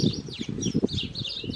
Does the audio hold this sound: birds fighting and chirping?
yes